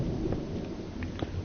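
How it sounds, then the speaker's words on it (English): Low thunder rumbles outside, rolling continuously and fairly faint with no talk over it. "we got a lot of thunder outside right now"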